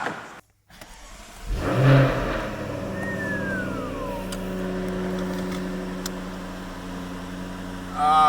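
A Jaguar F-Type R engine starts and idles with a steady, close rumble on its first drive, rising briefly in a rev before settling, with a faint whine and a chime near the end.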